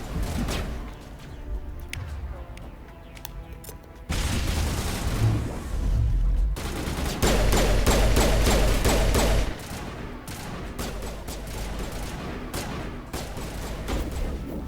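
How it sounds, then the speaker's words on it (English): Bursts of rapid gunfire crackle and boom in overlapping volleys, loud and close, with explosive thuds mixed in throughout, from combat in the video game Mass Effect Legendary Edition. "Why you run into gunfire?"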